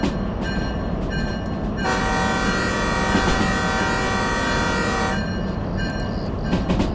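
A locomotive's horn in the Derail Valley train game blasts in one long sustained tone for about three seconds, loud and close, framed by steady rumbling train noise before and after.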